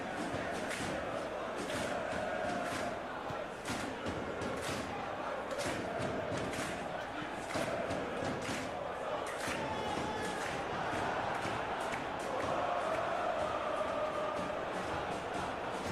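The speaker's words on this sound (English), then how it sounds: "I'm just blown away by the drums and how the crowd sounded." A roaring video game stadium crowd in PES 2021 fills the whole stretch, with chanting voices and steady thumping drums pounding underneath a constant loud wash of noise.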